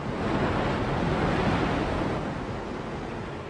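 Rough sea waves roar in a steady, loud wash of surf and wind that fills the whole stretch and eases slightly toward the end, with no voices.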